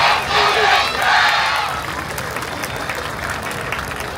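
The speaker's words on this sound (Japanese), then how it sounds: "そのために皆さんのたくさんの拍手いただければと思います。" An outdoor festival audience at the Chiba YOSAKOI main stage breaks into loud applause and cheering before a dance team performs, with a dense, continuous wash of clapping and shouts.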